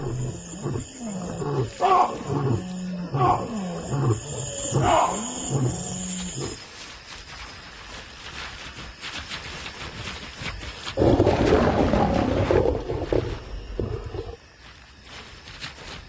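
Two male lions roar in chorus in the wild, a series of deep rhythmic grunting roars that build and fade, followed by a quieter rumbling stretch and a later distant roar, with no speech.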